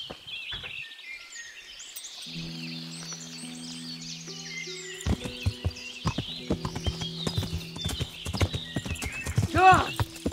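Hooves clip-clop in a brisk rhythm, joined by a whinny and faint birdsong, with a voice talking over it; a horse in the video game Kingdom Come: Deliverance.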